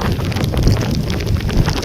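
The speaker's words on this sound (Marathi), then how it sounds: "हा बघा वारा वादल वारा वादली वारा फुल पाऊस जोरात" Strong stormy wind with heavy rain from Cyclone Montha over the Arabian Sea, lashing a fishing boat, forms a loud, continuous roar of gusts and rushing water with no let-up.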